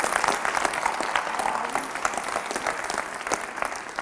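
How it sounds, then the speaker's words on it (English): Clapping from a high school assembly audience for a student back from nationals, dense and steady throughout, with occasional louder claps and a bit of cheering mixed in. "Round of applause."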